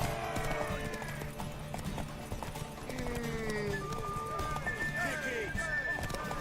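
Hooves clip-clop in a steady rhythm from a horse in The Witcher 3, with a whinny or two rising over game music and ambience while characters talk over it.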